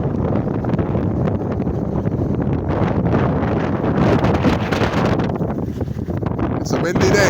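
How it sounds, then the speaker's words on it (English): Strong wind blows at a beach in Abaco, buffeting the microphone with a loud, continuous roar that swells and eases; someone speaks over it. "This you call a windy day in paradise of Abaco."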